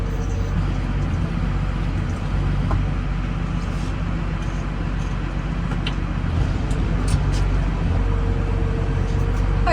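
A farm vehicle reverses during feeding chores, its engine giving a steady, close, low rumble that runs unbroken for the whole stretch, with no talking.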